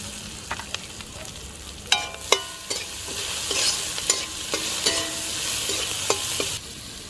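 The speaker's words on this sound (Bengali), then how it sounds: "পেঁয়াজটা ভাজা হয়ে গেছে" Onions fry in a pan with a soft continuous sizzle while a utensil stirs and scrapes, knocking against the pan in sharp, irregular clinks.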